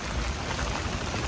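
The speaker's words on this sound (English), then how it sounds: "even when it's pouring rain like this" Pouring rain falls in a steady, dense broadband wash with no breaks or talk, loud and close throughout the short stretch.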